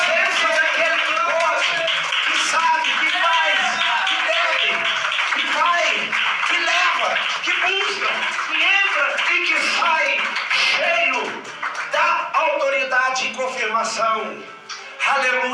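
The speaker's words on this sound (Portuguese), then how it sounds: "dê uma linda salva de palmas para Cristo Jesus" A church congregation claps continuously and densely under a loud preacher's voice and swelling crowd voices, the clapping steady throughout and easing slightly near the end.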